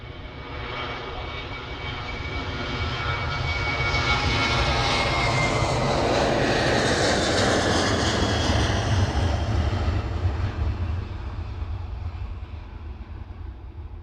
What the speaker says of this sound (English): That was a TUI that just hurtled past.